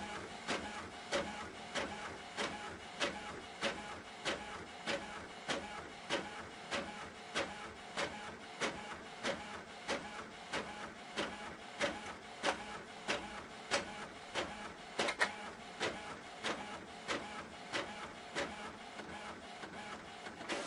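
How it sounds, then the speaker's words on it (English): A dye sublimation printer printing a phone case design, running with a regular mechanical rhythm of clicks and whirring passes repeating about once a second, steady and moderately quiet with no talking. "It's going to load the paper up and print it out."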